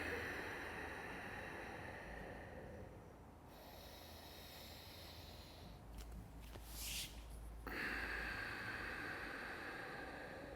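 A slow, steady breath drawn in during yoga practice, faint and airy, held over several seconds with a soft hiss, heard alone without any talk.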